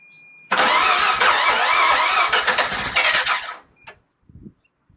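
A Mazda RX-7 Turbo II rotary engine, running with its intake elbow popped off the turbo, cranks and fires into a loud, rough, close run for about three seconds, then shuts off with a few sputters.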